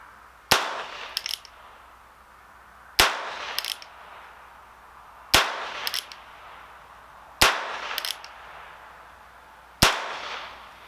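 A Heritage Rough Rider revolver fires Aguila Super Extra .22 Short rounds outdoors: five sharp, fairly quiet cracks, evenly spaced about two and a half seconds apart, each followed by a short ringing echo.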